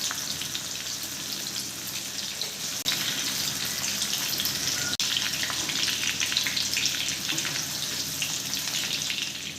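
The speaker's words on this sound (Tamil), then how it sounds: "வெங்காயம் வெள்ளை பூண்டு ஒரு அரை பக்குவத்துக்கு நல்லா ஃப்ரை ஆகிடுச்சு" Onions and garlic frying in oil in a pan, a steady dense crackling sizzle that stays loud and close throughout, with a couple of brief knocks along the way.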